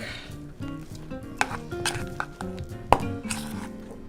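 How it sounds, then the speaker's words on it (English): Herbs and garlic are stirred into a butter spread, with scraping and clinking of a utensil against the bowl in irregular strokes over a musical background. "mix all of this up again, and you want to mix it good because you want to get all those herbs in every part, in the garlic"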